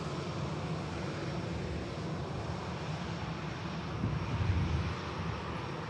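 Steady aircraft engine roar at Manchester Airport, a continuous broadband rumble near the runway with a slight swell toward the end, no voices.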